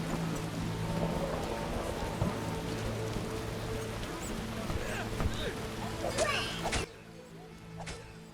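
Heavy rain downpour in the video game The Witcher, a steady dense hiss of rainfall with scattered splashy clatter, moderately loud and continuous before dropping off abruptly near the end.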